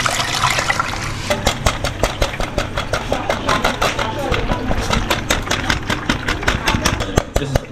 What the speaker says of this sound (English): That's the sieving.